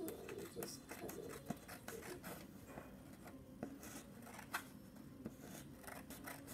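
Scissors cut through toilet roll cardboard in repeated close, crisp snips and crunches over a steady low background, with faint talk at times.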